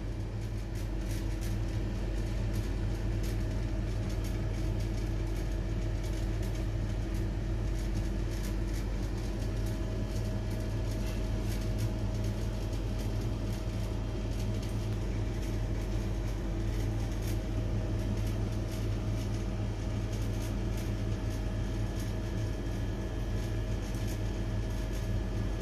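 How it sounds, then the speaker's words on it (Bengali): A sewing machine stitches the sides of a homemade cloth mask, running as a continuous, even mechanical hum and rattle throughout with no pauses and no talk. "এই চার সাইডটা এখন সেলাই হবে, একটা সাইড সেলাই হচ্ছে।"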